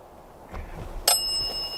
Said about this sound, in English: Can you set the bell off for yes?